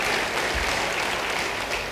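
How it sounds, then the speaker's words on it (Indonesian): Church congregation applauding during a sermon, a dense, steady wash of clapping from many hands that fills the whole moment without speech. "Yang setuju beri tepuk tangan bagi dia"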